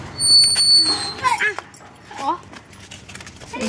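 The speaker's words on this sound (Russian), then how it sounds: "Есть такая собачка здесь. Вот такая, которая любит играться." A small, playful dog in a home barks and whimpers with short yips and whines, close by and scattered through the moment, while people talk nearby.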